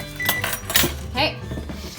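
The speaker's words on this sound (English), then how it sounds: "stir that up" A spoon clinks and scrapes around a bowl, stirring cupcake batter mixed with baking powder and salt, in a few quick close taps under ongoing background voice and tones.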